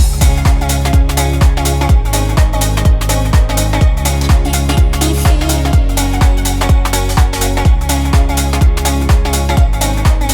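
A full house track plays loud and steady, with punchy kick drums on a regular beat, layered synths and chopped vocal snippets running continuously throughout.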